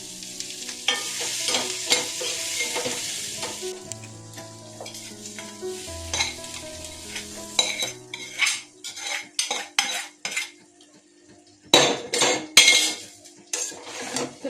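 Chicken and onions for chicken dopiaza are stirred in a sizzling frying pan, with a spatula scraping and clinking against the metal in uneven bursts. Brief quieter gaps separate the louder clattering strokes.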